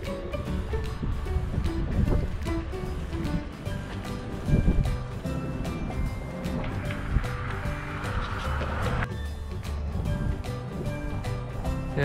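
Gusty wind at a seaside jetty in Belmar, New Jersey buffets the microphone near the water, a constant rough rush with waves and faint voices mixed underneath.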